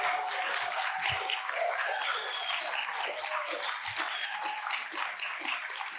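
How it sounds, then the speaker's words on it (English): Conference audience applauding during a presidential speech at a medical education society meeting, a full, steady round of clapping from a large crowd that continues unbroken throughout. "So please clap for the best daddy in the world"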